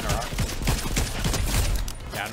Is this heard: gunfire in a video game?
yes